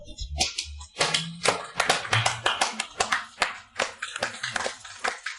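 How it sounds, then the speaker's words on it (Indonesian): A room full of people clapping in lively, sustained applause at a formal gathering, dense and steady for several seconds with brief swells and a slight dip midway. "Mari kita berikan tepuk tangan yang meriah"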